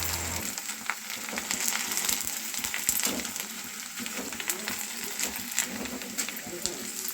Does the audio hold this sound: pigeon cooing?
no